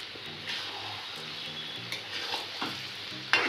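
Mango pickle being stirred in a pan, a steady frying sizzle with soft scraping strokes and a sharper clink near the end, close and alone.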